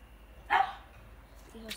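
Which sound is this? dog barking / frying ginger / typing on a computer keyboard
dog barking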